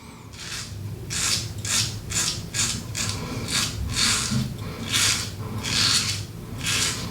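Single edge safety razor dragging across skin over leftover stubble after two passes: a series of about ten close, crisp rasping strokes in a regular rhythm, each a short scratchy burst, with no talking.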